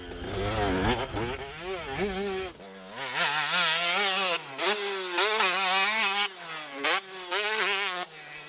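A Beta 50 motocross bike screams at race pace, its small engine revving hard and rising and falling in pitch through gear changes and throttle blips, loud and close throughout.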